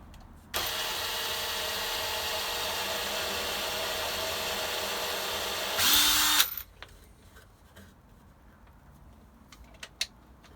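A power drill countersinking holes in MDF whirs loudly and steadily for about six seconds, bites in with a brief rougher burst, then stops, leaving quiet workshop noise and a faint click.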